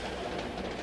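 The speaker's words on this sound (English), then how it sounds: "So when the little freight train stopped to let an express full of happy Christmas travelers pass, Frosty took advantage of the opportuni" A freight train rolls steadily along the tracks in a brief, faint, continuous rumble with soft rattling from the wheels.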